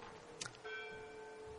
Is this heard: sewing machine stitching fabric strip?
no